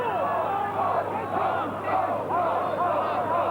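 A 25,000-strong stadium crowd at Ballymore chants continuously through the second rugby test between Australia and the British Lions in 1989, a loud, steady roar of massed voices with rising and falling chant phrases.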